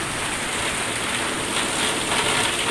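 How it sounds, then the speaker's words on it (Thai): Heavy rain pours down steadily behind a house, a dense, loud, unbroken hiss with no voices. "ฝนตกหนักเลยอยู่ด้วยครับพี่น้องนะครับ"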